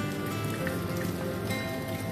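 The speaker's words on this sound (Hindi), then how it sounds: "इतनी अच्छी बारिश हो रही है" Heavy rain falling in Gangtok, a dense, even patter and hiss that holds steady throughout the short stretch with no one talking.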